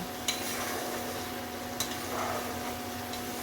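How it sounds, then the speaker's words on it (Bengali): Ground spice paste with a little sugar and water fries in a pan for a catla fish curry, giving a quiet, steady sizzle broken by two brief stirring clicks, and no voice. "এবার এই মশলাটা ভালো করে কষিয়ে নিচ্ছি"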